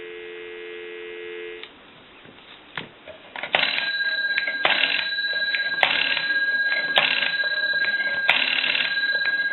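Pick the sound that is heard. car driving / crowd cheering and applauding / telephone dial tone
telephone dial tone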